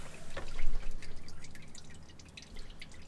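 Motor oil dripping from the drain of a 2017 Ram 1500 with the 5.7 Hemi on a lift: a few close, distinct drips over a low background hum, with no talk.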